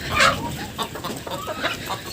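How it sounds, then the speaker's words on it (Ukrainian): Chickens cluck and squawk close by in short, irregular bursts, a few birds calling over one another with no speech. "Кури тут заховалися"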